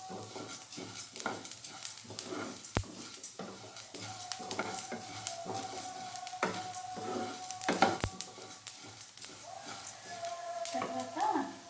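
Coriander seeds and cumin dry-roasting in a pan, with steady stirring scrapes and a faint crackle, punctuated by a few sharp clicks of utensil against metal, close and moderately quiet with no talking.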